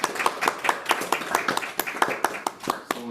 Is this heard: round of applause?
yes